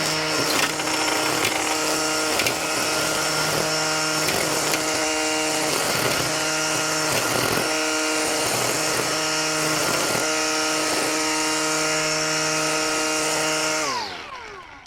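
A Dewalt 60V Flexvolt cordless string trimmer cutting thick grass gives a loud, steady, close motor whine with strong even tones and repeated surges under load. It winds down sharply at the end.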